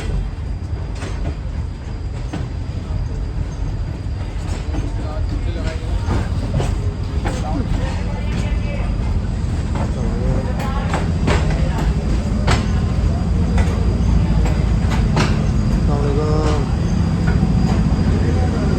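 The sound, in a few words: Shah Hussain Express passenger train at station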